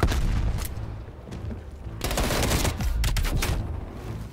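Loud, dense automatic gunfire from an assault rifle in the shooter game Call of Duty: Black Ops Cold War, with continuous bursts of rapid shots and two especially heavy volleys in the second half.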